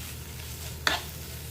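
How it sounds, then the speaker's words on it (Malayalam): A spoon gives a single quick scrape while stirring tomatoes and green chillies in a pan, over a soft, low background sizzle. "നന്നായി ഇളക്കി കൊടുക്കാം."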